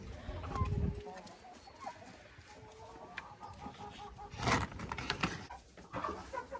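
Hens clucking inside a henhouse, scattered close and farther calls over rustling litter and footsteps, with a louder burst of cackling partway through.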